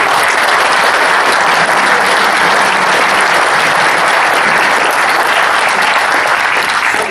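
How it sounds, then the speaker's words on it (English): A roomful of people at a BAHEP general membership meeting breaks into loud, sustained applause, with dense, even clapping that holds steady for the full seven seconds and has no voices above it. "really a round of applause for all the great folks"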